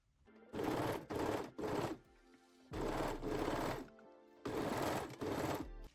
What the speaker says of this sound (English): And sew the seam with a serger